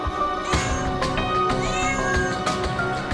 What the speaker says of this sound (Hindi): फरीहा ने दर्जनों बिल्लियां पाल रखी हैं।